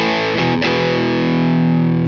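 An electric guitar played through a Valeton GP200 modelling a Marshall 900 amp gives loud, heavily distorted, sustained chords. A brief strum change comes early, and the sound rings alone and steadily throughout.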